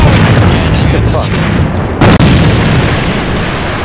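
A grenade blast in the AVA (Alliance of Valiant Arms) online shooter, a sudden booming burst cutting through a dense, loud wash of game noise and rumble, with voices talking throughout.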